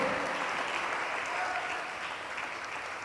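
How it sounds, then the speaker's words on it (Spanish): Church congregation clapping hands together during a worship service, a dense, steady wash of applause filling the room throughout. "Dele más fuerte las palmas al Señor en el nombre de Jesucristo."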